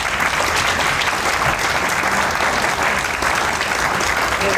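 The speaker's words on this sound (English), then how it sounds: "Please give me a round of applause." Audience applause fills a transportation forum hall, a dense, steady burst of many hands clapping at close range, holding loud and even throughout without any voices.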